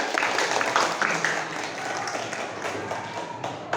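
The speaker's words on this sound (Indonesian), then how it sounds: "Tepuk tangan buat kita semua." Students in a classroom applauding together at the close of a lesson, a dense, steady wash of clapping that holds at an even level from start to finish.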